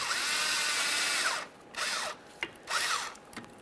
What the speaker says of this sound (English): Use a 7mm to loosen the clamp.